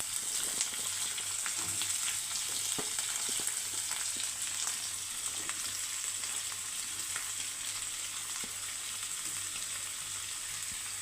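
Shallots and onion fry in hot oil for an anchovy thoran, a steady close sizzle and crackle with occasional light stirring taps, no voices.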